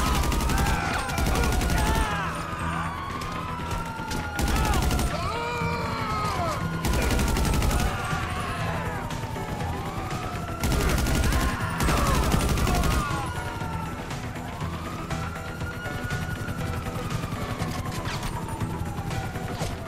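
Bursts of automatic gunfire in the GTA Online video game, loud clustered volleys repeating every few seconds over a steady background of game sound and descending whooshing tones.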